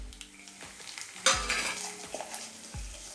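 Whole spices such as cloves, cardamom, cinnamon and bay leaf frying in hot oil for Saidapet-style vada curry, with a steady sizzle and bursts of stirring and utensil scrapes in a kitchen, no talk.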